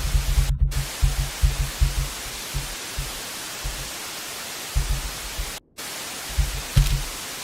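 Loud, continuous hissing TV static in a horror video game, with low throbbing pulses underneath and two abrupt, momentary cutouts.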